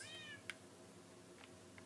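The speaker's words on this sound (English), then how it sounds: "That meow is Clifford's cat." A short, high cat meow in Minecraft opens the clip, then a few faint clicks follow over a low, steady background hum.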